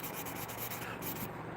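Slings are sanded by hand in a garage with short, rapid rubbing strokes, a quiet close rasp lasting under two seconds with no voices.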